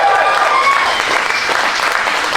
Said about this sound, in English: Can we just have one more massive round of applause for a big love and support?